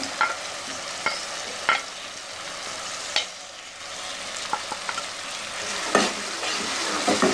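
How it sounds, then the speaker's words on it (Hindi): Green chillies fry in masala with a steady sizzle close by, punctuated by sharp scraping stirs of a spoon against the pan at irregular intervals. "सब्ज़ मिर्चें डालने के बाद हम इसको अच्छी तरीके से भूनेंगे"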